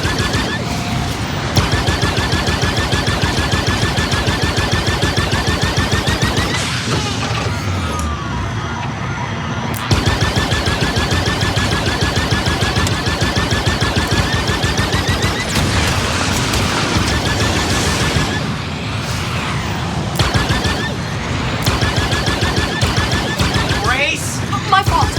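Sustained blaster fire from enemy raiders in Star Wars Outlaws: dense, rapid volleys with booming impacts that run in long loud stretches broken by short pauses, with voices talking over the battle.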